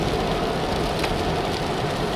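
Steady rain falling outdoors, a dense continuous hiss of drops with no gaps across the whole stretch, fairly loud and close, with no voices over it.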